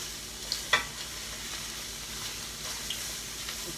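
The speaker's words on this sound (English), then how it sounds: "just stir fry that a little bit" Vegetables for a vegan Valencia-style paella stir-fried in a pan, a low steady hiss with a couple of sharp scrapes early on, then soft stirring noises, fairly quiet and close.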